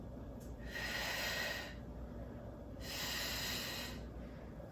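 Slow, deep breaths during a Pilates workout: a long airy inhale and exhale repeated twice, close to the microphone, soft and steady with no talking.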